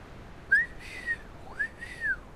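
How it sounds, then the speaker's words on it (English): A person gives two rising-then-falling whistles in a row during a Bloody Hallowfest game, close and clear against near silence. "I meant to go woo-hoo, but I whistled it for some reason."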